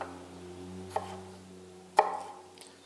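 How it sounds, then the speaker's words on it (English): A knife cuts through a whole potato on a board to make thick fries, giving two distinct chopping thuds about a second apart and a lighter tap after them over a faint low hum. "I'm going to cut the bottom off so it doesn't roll on me, but I'm also cutting it thick enough that this can be a fry"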